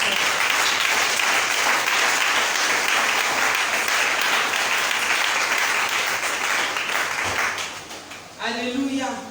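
A church congregation applauds in sustained, dense clapping that fills the room for several seconds, then eases off as a voice begins speaking near the end.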